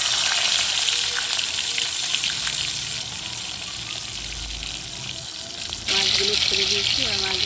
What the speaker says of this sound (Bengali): মাছগুলো ছেড়ে দিয়েছি, আর মাছগুলো ভাজা হোক